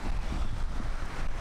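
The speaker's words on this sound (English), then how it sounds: "It's a little windier than when we normally come out here" Gusty wind on a beach buffeting the microphone, a loud, low, continuous rumble that fills the short moment.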